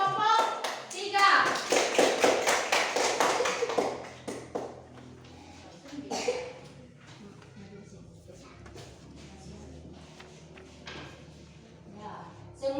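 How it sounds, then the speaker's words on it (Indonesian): Schoolchildren in a classroom clap together for group 3, a dense burst of loud, rapid applause over the first few seconds, then scattered claps, taps and voices as it dies down. "tepuk tangan buat kelompok 3"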